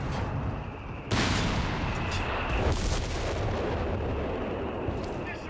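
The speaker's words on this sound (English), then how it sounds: "Some base howitzers coming in." Base howitzer artillery in Company of Heroes 3 pounds in as a dense barrage, with heavy booms and a sharp blast about a second in, then continuous rumbling impacts, with a voice faintly underneath.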